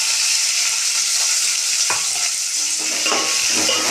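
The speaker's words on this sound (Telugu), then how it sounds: "ఇక వీటిని కూడా ఇట్లా అయితే వేయించాలి నూనెలో" Sliced onions and peeled garlic frying in oil in a pan, a loud, close, steady sizzle with occasional stirring scrapes and no voices.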